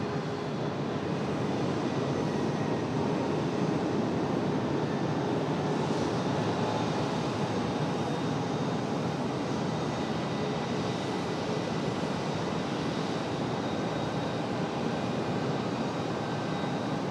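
A UPS airliner takes off from runway 5 left at Raleigh-Durham International Airport, a continuous broad jet engine roar that stays steady and fairly loud throughout, with no voices.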